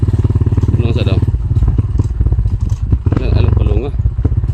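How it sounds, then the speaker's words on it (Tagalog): A motorcycle engine runs close and loud with a rapid, throbbing pulse, briefly rising in pitch as it revs twice. "May napansin kaming motor dito."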